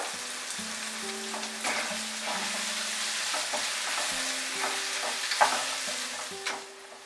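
Onions frying in a pan over medium heat with salt, a steady close sizzle broken by repeated scrapes and taps of a stirring spoon, no talking.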